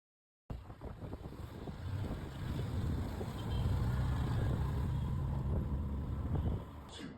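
A boat carries passengers across open water with a steady engine rumble and rushing wind noise building after a brief silent start, continuous and fairly close, with no talking.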